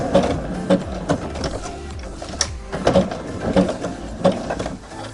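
A sewing machine stitches coiled rope into a coaster, sounding as close, steady mechanical whirring broken by rhythmic clicks and knocks throughout.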